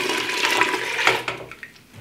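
Apple cider vinegar poured from a container into a pan for mustard pickled eggs, a steady splashing liquid stream running close and fairly loud for over a second before tapering off into scattered drips.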